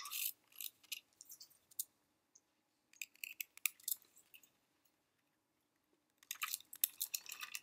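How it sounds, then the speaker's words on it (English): Scallop-edged craft scissors snip around the corner of a paper card topper in short, faint, crisp clicking bursts separated by quiet pauses, close by in a silent room. "I'm going to use my scallop scissors here and just round this corner"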